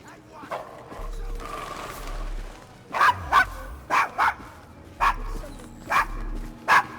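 A dog barks in Assassin's Creed Syndicate, a series of loud, close, sharp barks in clustered bursts over a background of game ambience.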